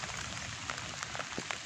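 Steady rain falls throughout in an outdoor setting during fishing, a dense even hiss with scattered brief drop ticks, close and continuous with no talk.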